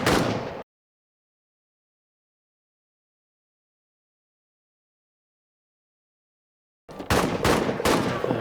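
Gunfire in the World War I trench strategy game All Quiet in the Trenches: a brief loud burst cuts off, then after about six seconds of silence a second rapid volley of shots follows.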